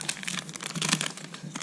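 Foil wrapper of a 1990-91 NBA Hoops basketball card pack being torn open, a quick close burst of crinkling and ripping lasting under two seconds.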